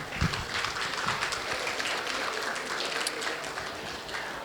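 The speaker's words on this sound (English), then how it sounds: "So join with me and have a big round of applause for everyone present here." Audience applause at a Harman Foundation community event in Blacktown, honoring volunteers: a dense, steady wash of many hands clapping, moderately loud and continuous throughout with no voices over it.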